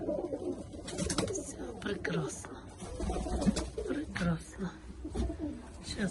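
Pigeons coo softly and continuously while being fed, their low, burbling calls overlapping with faint rustling and background noise at a quiet, close-by level.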